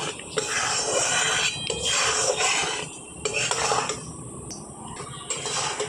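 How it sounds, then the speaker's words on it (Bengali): Jaggery (gur) stirred in a pan while cooking for puffed-rice balls, a steady close scraping and clattering of a utensil against the metal over a constant hiss. "নাড়াচাড়া করে কিন্তু পুরো গুড়টাকে ভালো করে জাল করে নেব"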